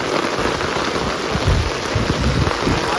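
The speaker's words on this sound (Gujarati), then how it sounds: "વરસાદ ચાલુ થયો છે પાછો ધોમ વરસાદ" Heavy unseasonal rain pours down in a dense, steady hiss close by, with occasional low thuds of drops striking a surface and no talk.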